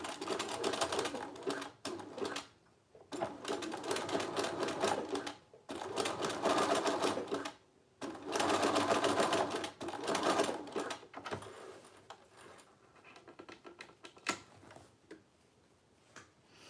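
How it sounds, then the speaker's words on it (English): A sewing machine stitches elastic in a small home workshop, running in several long, steady, close bursts of rapid whirring separated by short pauses, then tapering into lighter, intermittent stitching near the end. "I am sewing the elastic."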